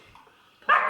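A dog gives a single loud bark close by, after a stretch of faint background noise.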